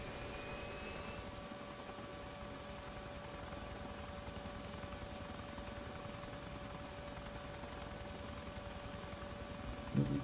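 A rotor aircraft lifts off in ArmA 2 Operation Arrowhead over Takistan, a steady droning engine whine with a rhythmic blade thump holding evenly throughout.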